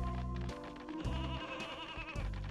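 Repeated bleating from sheep penned in the N64 game Space Station Silicon Valley: four evenly spaced, loud, close cries over continuous background game music.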